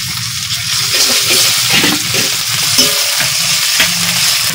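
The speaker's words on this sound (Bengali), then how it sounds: "এখন আমি বেটে রাখা মশলা দিয়ে দেব।" Ground spice paste hitting hot oil with lightly fried onion and garlic for a Bengali shing fish curry, a loud steady sizzle with scraping stirs, close and alone.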